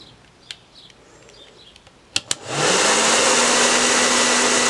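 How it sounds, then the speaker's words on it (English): A hair dryer switches on partway through and blows steadily and loudly to heat HTV heat-transfer vinyl, after a few faint clicks and handling sounds. "Let me grab my hair dryer. Okay, I have out ye old hair dryer."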